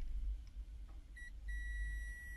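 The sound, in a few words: car part beeping when button released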